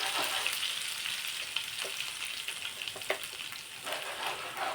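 Garlic and fresh coriander fry in hot oil in a pan, giving a steady close sizzle with light crackles and stirring scrapes, heard alone without talk.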